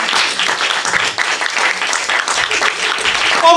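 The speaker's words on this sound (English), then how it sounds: "Clap it up for her." Loud, steady applause from an open mic crowd at The Brew House Gallery for a performer, a dense continuous sheet of clapping with a few brief voices calling out inside it.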